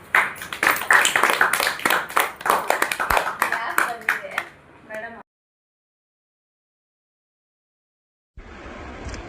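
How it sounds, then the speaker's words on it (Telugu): Students in a class burst into a few seconds of brisk, close hand clapping, which fades out before a stretch of silence and faint room noise. "క్లాప్స్"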